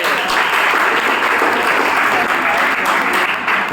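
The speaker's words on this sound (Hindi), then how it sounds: "तालियां फिर से" A crowd claps loudly and continuously at a government school career counselling program, a dense steady wash of applause throughout.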